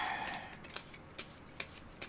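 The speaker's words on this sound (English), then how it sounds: "just do a quick shuffle for this encounter deck" A deck of cards for the Marvel Champions card game being quickly shuffled, with a few short, crisp riffling bursts spaced about half a second apart over a soft background hiss.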